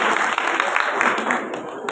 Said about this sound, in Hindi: एक बार सारे लोग जोरदार ताली